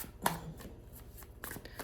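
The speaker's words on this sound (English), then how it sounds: "So I'm just going to shuffle that super quick." A tarot card deck being shuffled quickly, with a sharp riffle burst near the start, softer flicking cards through the middle and another brief flurry toward the end, close and fairly quiet.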